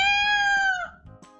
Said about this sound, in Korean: 난데없이 도둑고양이 한 마리가 휙 부엌으로 뛰어들었어요.